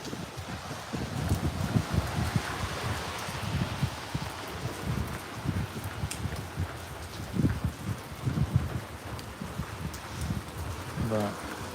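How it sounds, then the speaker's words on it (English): Rain falling on a stormy Friday night at about 10:38, a steady hiss of drops with wind gusts buffeting the microphone and rustling, continuous throughout at moderate loudness. "it's still raining pretty good"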